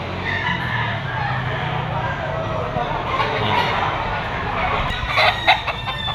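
Three-year-old Pumpkin hatch gamecock roosters at a poultry auction market cluck and crow nearby amid a busy crowd murmur, with someone talking over the birds.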